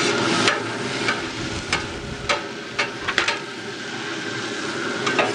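Pineapple, green onion and cilantro sizzle on a griddle insert over a BBQ, a loud continuous hiss with occasional metallic scrapes and taps from a spatula.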